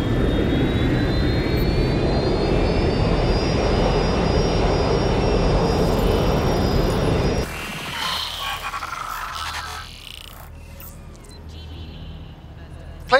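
Jet engine of a rerouted passenger plane in the video game Watch Dogs: Legion, a loud steady roar with a rising whine that holds for about seven seconds, then cuts abruptly to quieter muffled background.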